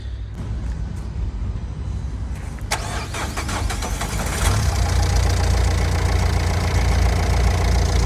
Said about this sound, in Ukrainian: дуже складно він запускається цей двигун